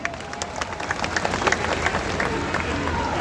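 A crowd at a Ganjar Pranowo and Mahfud MD campaign rally in Pekanbaru claps steadily, with dense applause and a little cheering throughout.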